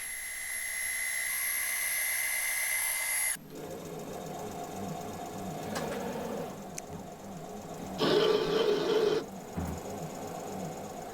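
A metal lathe at 1000 rpm spindle speed cuts a three-start thread of 2.0 pitch, sped up, giving a steady high whine with shifting tones, a sudden change midway and a louder rasping cutting burst later, no voices.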